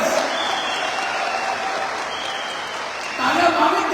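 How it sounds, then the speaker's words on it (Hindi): Audience clapping at a network-marketing business seminar, a dense steady roar of many hands filling the hall, swelling slightly near the end. "दोस्तों चाहूंगा एक बार जोरदार तालियां पूरी हमारी इस मैनेजमेंट, हमारे लीडर्स के लिए"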